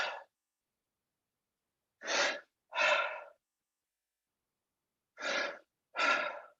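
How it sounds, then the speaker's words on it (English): A man breathes loudly and close, with one breath cut off at the start, then two paired breaths, a pause and another pair, each a rushing airy burst with silence between. "I was breathing just loud as I normally breathe"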